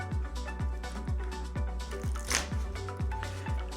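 A deck of Pokemon trading cards is shuffled by hand close to the mic in a quick, even series of riffling snaps, about eight in a row, with soft background music and no speech.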